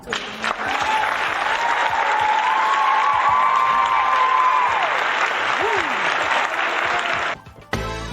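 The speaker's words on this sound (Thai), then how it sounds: "ปรบมือให้เฮียหน่อยครับ" Sustained applause from a crowd, loud and continuous for several seconds, with a voice calling over it, then cutting off abruptly near the end.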